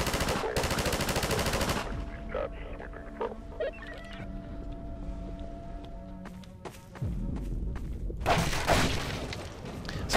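Rapid automatic gunfire from a captured weapon in the video game Half-Life, loud bursts at the start and end with quieter game sounds and scattered shots between.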